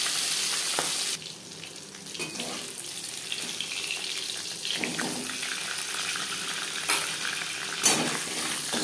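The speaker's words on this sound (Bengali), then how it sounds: "মাছের মাথা ভেজে নেওয়া হয়ে গেছে" A catla fish head fries in hot oil with a steady, close sizzling hiss, broken by a few sharper spits and crackles from the pan.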